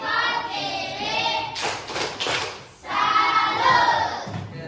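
Schoolchildren in a classroom do a thumb clap together, giving a short burst of clapping and tapping in the middle, with voices chattering before and after.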